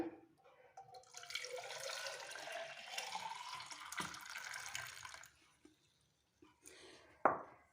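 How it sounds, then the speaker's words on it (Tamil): Pomegranate ice cream mixture is poured into a glass, a steady close trickling pour lasting several seconds, fairly soft, followed by quiet handling and a brief clink. "திருப்பி நான் இதை ஒரு கிளாஸ் ஊற்றிக்க போகிறேன்"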